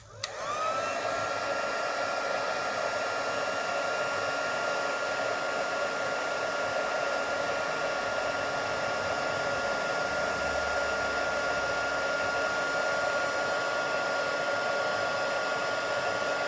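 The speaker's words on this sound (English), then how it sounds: "Once it starts going shiny, you want to move the heat gun around to get all the other powdery parts." Heat gun blowing steadily and loudly to melt embossing powder on glow-in-the-dark paper, a continuous close whoosh with a faint high whine, running unbroken for the whole stretch.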